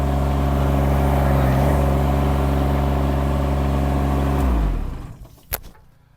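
A mini skid steer's engine runs loud and close at a steady idle with a deep, even hum, then winds down and shuts off near the end, followed by a brief click and quiet.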